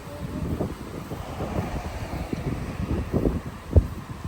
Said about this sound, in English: It's still windy out, isn't it?